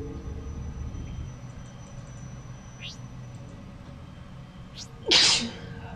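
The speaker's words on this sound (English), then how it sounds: "I sneezed." A single sharp sneeze bursts out near the end against quiet room noise.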